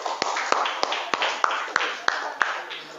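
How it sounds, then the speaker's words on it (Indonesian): Hands clap in a classroom as a sharp, evenly paced series of about ten close, crisp claps that sounds like only one or a few people clapping, with a faint murmur underneath. "Oke, terima kasih. Tepuk tangan dulu."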